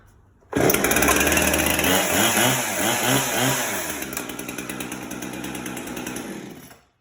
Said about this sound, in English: It should be 1 or 2 pulls, and this chainsaw should be up and running.